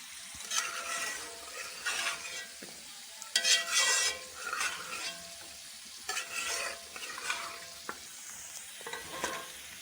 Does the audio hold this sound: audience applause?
no